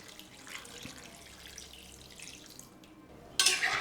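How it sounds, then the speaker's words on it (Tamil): Water is poured into a pot of mutton for Madurai-style mutton chukka, arriving as a sudden, loud splashing rush right at the end after near silence. "தண்ணியும் ஆட் பண்ணிக்கிறேன்."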